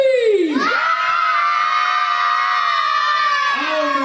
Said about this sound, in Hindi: जो सबसे ज्यादा शोर मचाएगा प्राइज उसका.